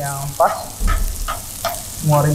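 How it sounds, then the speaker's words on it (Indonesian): Coarse chili paste sizzles in a hot pan as it is sautéed, with a steady frying crackle and a few short stirring scrapes, close and fairly loud. "Dari yang kasar itu ditumis sampai mengeluarkan bau"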